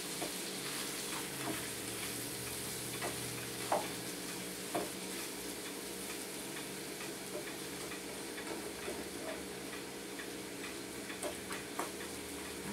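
Bacon, onion, mushroom and mozzarella omelet frying in a hot pan, a steady soft sizzle with occasional scraping and tapping of a utensil, close and continuous.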